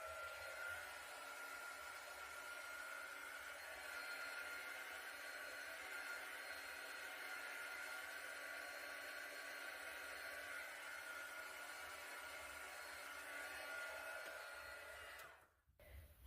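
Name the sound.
heat gun drying acrylic paint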